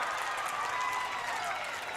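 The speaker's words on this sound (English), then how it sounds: "a sarcastic cheer for the Forest City crowd as they thought there should have been a foul" A Forest City basketball crowd in a gym lets out a sarcastic cheer, a steady dense wash of voices and clapping at moderate distance throughout.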